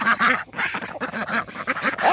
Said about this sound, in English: And hi, Ducky.